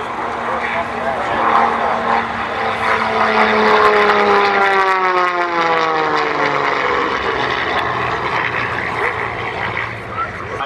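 A propeller aircraft makes a flying pass at the Oshkosh airshow, a loud droning engine that swells as it nears and fades as it moves away, under an announcer's voice talking over the public-address system.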